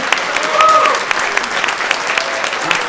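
An audience claps steadily, a dense crowd of hands applauding nearby with no one speaking over it.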